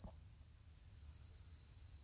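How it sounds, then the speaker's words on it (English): Crickets chirp in a garage, a continuous high, steady trill holding evenly throughout, with a low background hum beneath and no voices. "Yeah, those are crickets in my garage"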